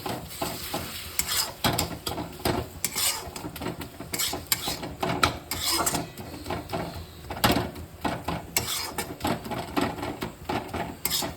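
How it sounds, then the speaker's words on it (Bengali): Chicken spices cooked in water without oil, stirred in a pot with steady scraping and clattering, over a soft bubbling sizzle that continues throughout. "এই যে জল দিয়ে দিয়ে মশলা কষাচ্ছি"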